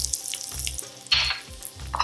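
Asafoetida warms and sizzles in hot oil inside an Instant Pot, a soft crackling hiss with a brief louder burst of spitting midway and faint low knocks recurring underneath.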